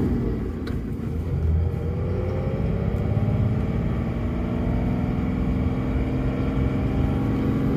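A 2017 Dodge Ram 3500 with a Cummins diesel and manual transmission accelerating in gear, a loud, steady engine drone with rising harmonics as revs climb, heard from inside the cab.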